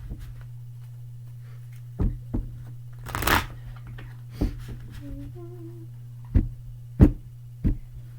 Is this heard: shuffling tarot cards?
yes